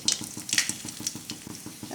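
Bay leaf, cardamom and cinnamon sizzle in hot mustard oil in a pan, a close, steady crackle with rhythmic bright pops and spatters throughout.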